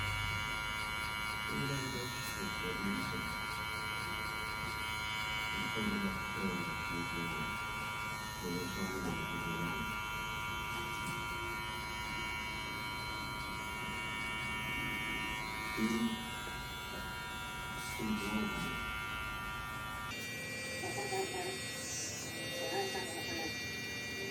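Electric hair clippers buzz with a steady, close hum while cutting a drop fade, the pitch dipping slightly as they bite into hair, with a person talking throughout.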